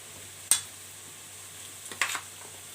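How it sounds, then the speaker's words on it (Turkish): A spoon scrapes and taps against a pan twice while stirring a zucchini and onion sauté, two brief sharp clinks over a faint steady sizzle. "Şöyle güzel bir karıştırıyoruz."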